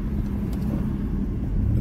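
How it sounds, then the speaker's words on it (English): Cars move along a road in a continuous low, rumbling wash of passing traffic, fairly loud and even, with no distinct single vehicle standing out. "This traffic this way is just ridiculous"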